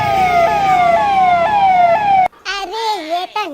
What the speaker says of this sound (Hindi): पुलिस का सायरन